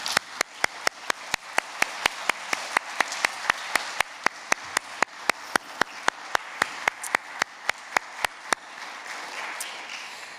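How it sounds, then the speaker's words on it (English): Applause at a primary school's final P7 assembly, faint, soft clapping from a gathered group, punctuated by a regular series of sharp, evenly spaced louder claps that fade near the end. "I think you deserve a round of applause."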